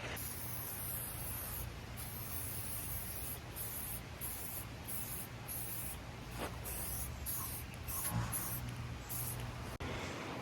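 A spray can lays a black coat of paint on a truck in a series of steady, hissing bursts separated by brief pauses, close and fairly quiet.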